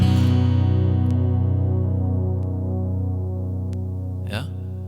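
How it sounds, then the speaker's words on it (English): A guitar tuned a half step down lets a chord ring out under a shimmering ambient pad effect, a sustained humming wash that slowly decays, with a short scrape of handling near the end. "you can hear, when the chord is ringing out, you can hear that shimmering sound in the background, that little sound carpet"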